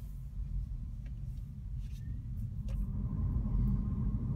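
An electric car pulls away from a standstill, a steady low rumble of tyres and road noise that swells gradually as it gathers speed, with no engine roar.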